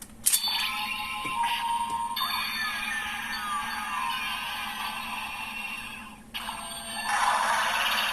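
A DX Guts Hyper Key Power Type toy transformation device in spark mode plays a sequence of synthesized sounds: a quick burst, a long ringing sweep with rising whistles, then a brighter surge after a brief dip.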